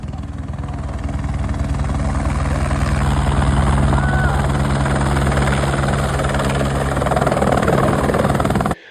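A helicopter arriving to pick up a group on a river island, its rotor beating loud and steady close by for several seconds before cutting off abruptly.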